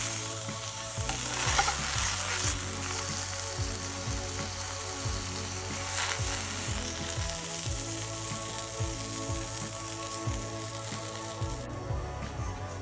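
A burger bun toasting in melted butter in a frying pan sizzles steadily and close for the whole stretch, with faint scraping and shifting in the pan.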